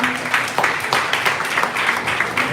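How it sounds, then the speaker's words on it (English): An audience applauding after a presentation, steady dense clapping that fills the room for a few seconds without letup. "Keep those claps coming."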